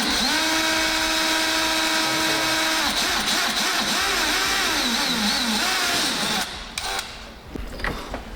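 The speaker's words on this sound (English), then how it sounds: "I'm just drilling holes all in it, and Jason's reaming the hole out" A loud power drill whines steadily, its pitch shifting as it bites into the metal of a car, then winds down and stops near the end.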